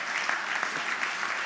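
Audience clapping at a healing rally, a brief steady patter of applause from a crowd, moderately loud and even throughout.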